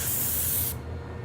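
A spray gun sprays coating onto a part as one steady, loud hiss that cuts off sharply partway through, leaving only faint room noise.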